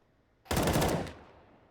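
Rapid automatic gunfire in the video game CS:GO, a single short loud burst of about half a second with quick repeated shots, then a brief fading tail.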